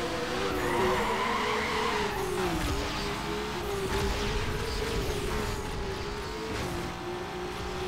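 A Mazda RX-7 races in the Need for Speed Underground video game, its engine droning loud and close while tires skid and squeal continuously, with no speech over it.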